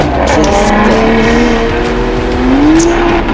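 A drift car launching at a French drift championship round in Mérignac, tires screeching loudly with rising engine pitch as it slides at angle amid heavy smoke, close and continuous.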